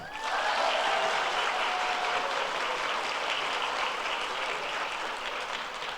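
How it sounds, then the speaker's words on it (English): A packed auditorium crowd at a school civics fair opening ceremony applauds in a thick, even wash of clapping that holds steady for the whole stretch, a touch louder at the start. "Can we get a round of applause for Jesus?"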